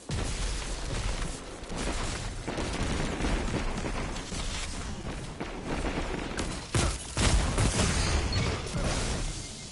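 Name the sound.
hand cannon gunshots in Destiny video game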